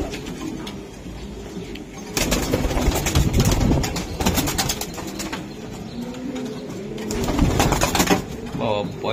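Frightened racing pigeons coo and shuffle indoors, low murmurs mixed with bursts of handling noise and possible wing flutters, while someone talks over them.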